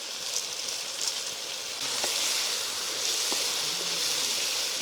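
Eggplant, radish, green mango and potato sautéing in oil for a village-style dried-fish curry, giving a soft, continuous sizzle and hiss with a few faint clinks, fairly quiet and without talk.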